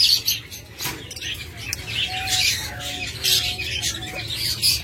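A breeding pair of pet birds, the hen loaded with eggs, gives repeated short chirps and calls close by, scattered bursts over a steady low background hum.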